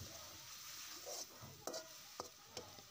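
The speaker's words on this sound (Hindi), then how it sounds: "अब इसको भी हम मिक्स कर लेंगे पलटे की हेल्प से अच्छे से मिक्स करेंगे इसे" Onion paste stirred with a spatula in a hot pan for green pea curry, a steady low sizzle with a few soft scraping knocks of the spatula, close and fairly quiet.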